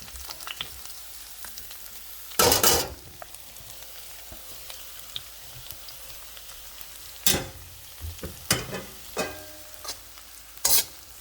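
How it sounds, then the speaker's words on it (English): Chopped capsicum, broccoli and carrot stir-frying for Indian-style veg chowmein: a steady low sizzle broken by loud, sharp scraping bursts of the spatula, one long stir early and several clustered near the end. "Now I'm putting the chopped capsicum and broccoli all in"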